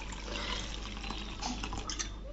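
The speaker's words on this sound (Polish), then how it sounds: "Dolewamy sobie wody" Water poured from a tap or jug into a container while mixing a neem oil plant spray with dish soap, a steady, close splashing fill with small gurgles throughout.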